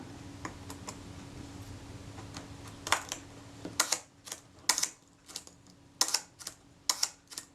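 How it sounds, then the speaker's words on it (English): A Suzuki Optical Press Van camera shutter fires repeatedly in sharp, close mechanical clicks, a spring-loaded snap recurring at uneven intervals over a quiet background. "Let's put this in place and see if the shutter will behave."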